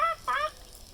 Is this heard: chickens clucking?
yes